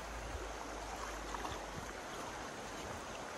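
A fast-flowing river rushes in a steady broadband roar of moving water, with a constant wash of noise and some low rumble. The sound is close and continuous, with no voices.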